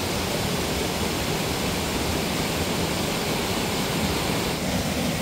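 A waterfall pours steadily in the open, a dense, constant broadband rush at close range that never lets up, with no voices.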